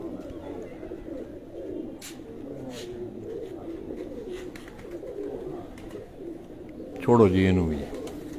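Pigeons coo softly at a bird-keeping loft, with people talking over them and a few handling knocks, then a louder burst of cooing near the end.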